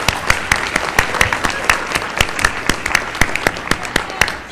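Scattered, distinct handclaps at a school board meeting greeting new 7th graders, a modest group clapping unevenly with sharp individual claps close by.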